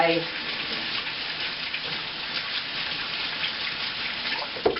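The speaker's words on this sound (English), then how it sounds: "I didn't know if you can hear me over the water" Tap water runs in a steady, close hiss while a facial cleansing brush is rinsed under it during a morning skincare routine, continuous and unbroken throughout.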